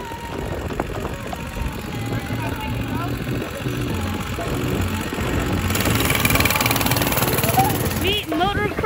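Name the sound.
mini bike engine running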